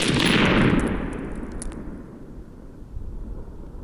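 A rifle fires a 77 grain bullet into concrete blocks outdoors: one sharp blast that rolls off into a long, fading echo, with faint clatter afterward.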